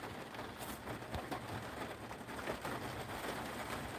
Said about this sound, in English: Looks like this rain's about ready to end.